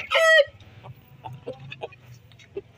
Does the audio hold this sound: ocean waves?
no